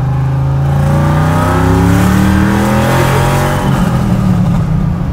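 A powerful 1,000 horsepower supercharged LS3 V8 in a Chevy Nova roars loudly up close at about quarter throttle, its pitch climbing steadily as it accelerates, with a thin high supercharger whistle riding above the growl.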